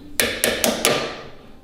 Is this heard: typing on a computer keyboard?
no